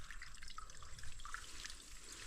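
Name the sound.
water being poured into a bottle gourd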